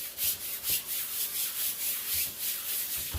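Primer being rubbed by hand into a canvas for a resin and acrylic pour, giving a steady, close, rhythmic scrubbing with regular strokes about every quarter second, with no talk.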